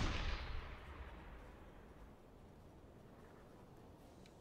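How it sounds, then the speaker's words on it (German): A submarine deck gun fires at tanks in the UBoat video game: one boom at the start, then a long rumbling tail that slowly fades, with no voices. "wir schießen mal auf die Tanks"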